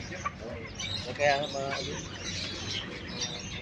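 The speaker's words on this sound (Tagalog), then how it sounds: "Sa kalapati, mayroon din kalapati dito." Birds calling and chirping amid a busy background murmur, with a brief soft pigeon coo standing out near the middle.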